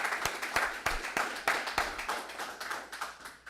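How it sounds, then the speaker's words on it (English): A small audience applauds at a graduation for an executive protection security specialist class, the separate claps audible and uneven in a sparse, close rhythm that thins out toward the end. "So give everybody a round of applause."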